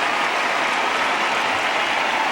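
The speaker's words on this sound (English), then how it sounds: "And huge applause all around." Dense, sustained crowd applause fills a tennis arena after a US Open women's final, a loud, even roar of many clapping hands with no voices on top.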